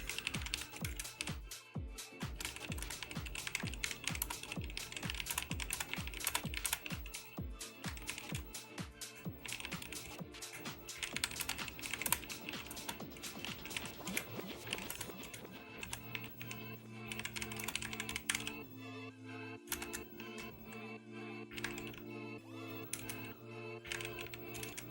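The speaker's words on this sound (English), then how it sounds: "I'm typing really slow" Rapid clattering keystrokes on a computer keyboard, fairly close and steady throughout, slowing into sparser taps later over a faint low hum of a gaming setup.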